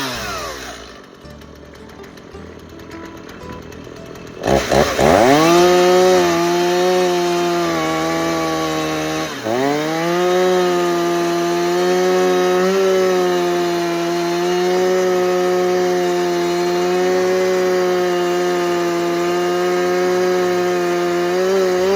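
A chainsaw cuts a log guided by a Dovetail Cabin Tools jig in Hayward, Wisconsin. The engine is idling at first, then revs up loud and steady, dipping briefly as it bites into the wood, then holding a sustained close, high-pitched whine.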